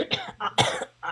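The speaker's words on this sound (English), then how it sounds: "Sorry, it hurts to cough." A person coughs in several quick bursts, close and fairly loud, with short pauses between the harsh, chesty hacks while dealing with chest pain.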